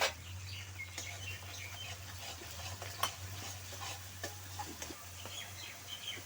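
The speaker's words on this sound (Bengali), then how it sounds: "পোস্ত বাটাটাও খুব ভালো করে মিশিয়ে নেব মশলার সঙ্গে।" Poppy seed paste being stirred into a mustard spice mix in a pan for a Bengali sorshe pabda fish curry, giving a soft steady sizzle with scattered scraping stir sounds and a low hum underneath, with no talking.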